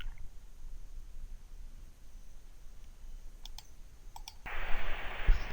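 A few faint computer mouse clicks sound in the Windows control panel on a Windows 7 PC over a quiet hum, followed by a brief burst of noise near the end.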